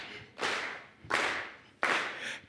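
Three separate claps from a group, spaced about 0.7 seconds apart, each a sharp broad burst that rings out and fades in a reverberant room, fairly quiet overall.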